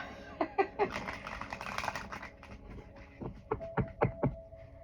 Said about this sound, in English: I just want to give it a real good shuffle